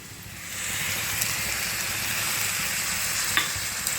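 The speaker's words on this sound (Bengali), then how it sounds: "এই মশলাটা দিয়ে খানিক্ষণ একটু ভালো করে আবারও নাড়িয়ে চাড়িয়ে কষে নেব" Spice paste of ground cumin, coriander and dried chilli, loosened with water, stirred and frying in a pan for a simple egg curry: a steady close sizzle with soft scraping stirs, rising after the first half second and holding even throughout.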